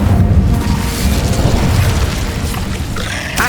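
Incendio fire spell cast in Hogwarts Legacy, a loud roaring whoosh of flame that fills the moment with a rumbling burst, ending in a brief crackling flare, no talking.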